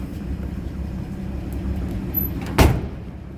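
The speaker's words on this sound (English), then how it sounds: "Door closes nicely." Over a low idling engine rumble, the door of a 1954 Chevrolet 3600 pickup shuts once with a single solid, close thud.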